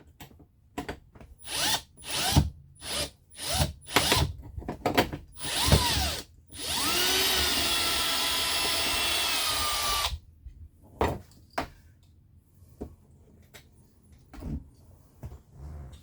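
A power drill backs out large self-tapping screws from the engine doghouse cover of a Thor Hurricane/Windsport 29M motorhome, with short ratcheting bursts, a few stuttering pulses, then one sustained whir before quieter clicks and handling noises.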